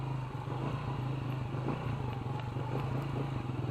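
A Motoposh Pinoy 125 motorcycle engine chugs in a steady low drone while riding off-road over bumpy, soft dirt, heard up close with faint rattling.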